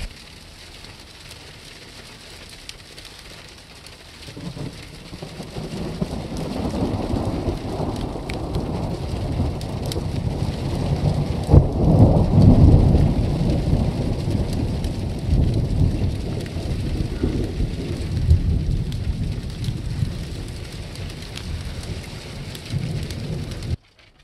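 Thundersnow rolls through a snowstorm as a long, deep rumble that swells after a quiet start and stays loud, over a constant hiss of falling precipitation, with no talking.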